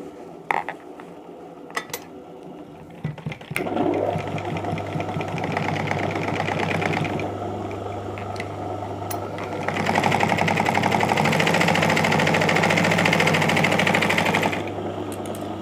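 A sewing machine stitches a side pocket on a garment, its motor starting after a few soft clicks and then whirring in a steady, close, mechanical hum with a rapid needle rhythm that briefly speeds up before stopping.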